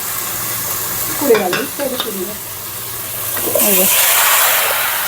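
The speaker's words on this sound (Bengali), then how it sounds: "রসুন পেঁয়াজ দিয়ে তেলে দিয়ে দিল" Garlic and onion fry in hot oil for a curry, a loud close sizzle that swells toward the end while a voice speaks briefly over it.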